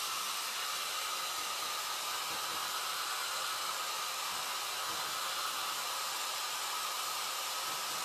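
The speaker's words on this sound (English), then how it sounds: "I'm just going to hit it with the cool setting on the blow dryer" A blow dryer running on its cool setting to dry chalk paste on a board gives a steady, close, fairly quiet airy whoosh that holds an even level throughout, with no one speaking.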